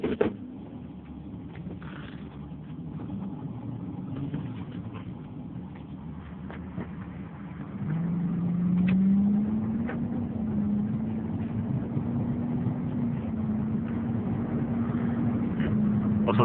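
A 2001 Mercedes-Benz S600 AMG drives along, its steady low engine and road rumble filling the cabin throughout, with the drone rising slightly in pitch and level about halfway through as the car picks up.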